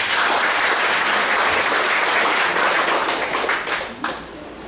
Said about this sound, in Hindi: ताली दे परमेश्वर।